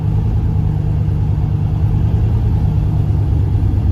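A Turbo LS Caravan minivan with a seized wastegate cruising gently, its engine giving a steady, loud, low rumble that drones on without a break for the whole stretch.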